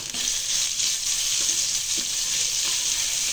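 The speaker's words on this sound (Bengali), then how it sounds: "রসুনটা সামান্য একটু ভেজে নিতে হবে যাতে কাঁচা গন্ধটা না থাকে, সেরকম করে ভাজতে হবে" Crushed garlic frying in hot oil for an eggplant chutney, giving a steady, dense sizzle that stays even throughout, with a few faint stirring touches beneath it.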